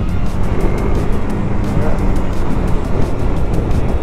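A 2019 KTM 390 Duke motorcycle on the move gives a steady, loud rumble of engine and wind noise, dense and unbroken from start to finish, with no talking.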